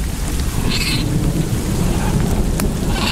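Steady heavy rain pours close by, with low rumbling thunder rolling underneath throughout; no voices.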